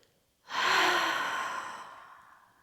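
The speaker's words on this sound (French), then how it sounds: "Expirez par la bouche. N'hésitez pas à faire du bruit." A loud, sustained exhale through the mouth during a flowing yoga session, a single long breath that starts abruptly and slowly fades over about two seconds, close and alone.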